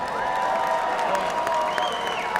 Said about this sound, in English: Ladies and gentlemen, how about a round of applause for both of these athletes?